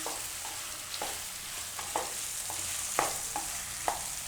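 Boiled potatoes and puffed amaranth are stirred in hot oil in a pan, a steady sizzle under repeated spatula scrapes and taps about every half second.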